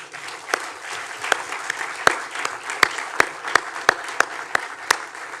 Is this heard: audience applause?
yes